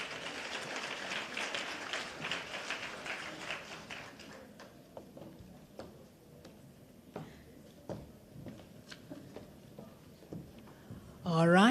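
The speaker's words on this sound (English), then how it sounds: "A round of applause." Applause from the audience at a women's recognition awards ceremony, louder clapping at first that thins to scattered, sparse claps, with a brief burst of sound at the very end.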